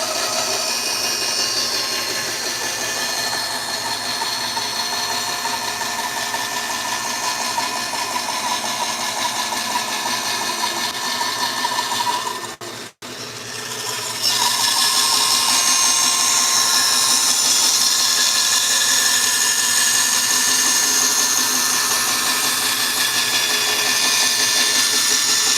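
A bandsaw rip-cuts a thin sheet off a board in a woodshop, a loud steady whine that cuts out briefly midway and then resumes just as strongly.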